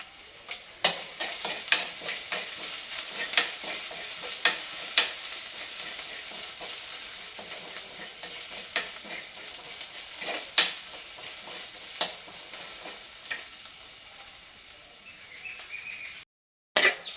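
Onions with asafoetida sauté in a pan in a village kitchen, producing a continuous soft sizzle broken by periodic sharp clicks of a spoon stirring and scraping, with no speech and a brief cut near the end.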